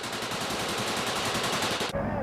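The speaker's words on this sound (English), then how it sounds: "You can see the tracer fire from the left and what seems to be an explosion underneath the helicopter." Rapid machine-gun fire in a Taliban propaganda clip aimed at a US helicopter: a dense, continuous rattle of shots that stops abruptly, leaving a quieter background.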